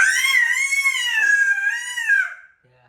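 A voice imitates a ghost screaming in a jungle: a long, high, wavering wail that holds for over two seconds, dips briefly, then rises again before cutting off into near silence.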